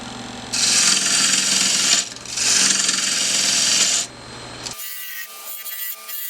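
Wood for an urn is smoothed by hand in two firm, rasping strokes of about two seconds each, close and loud, followed by a quieter, thinner scraping.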